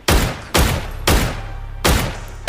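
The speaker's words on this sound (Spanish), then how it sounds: "Ya estoy escuchando tiros a la lejanía." Four loud, sharp gunshots crack in an uneven rhythm from the console version of the battle royale game PUBG, each with a short echoing tail and no voices.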